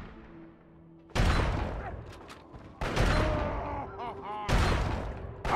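Bursts of enemy gunfire in the video game Fallout 3, three loud broadband volleys roughly a second and a half apart, each decaying with ringing tails, following a quieter stretch of background noise.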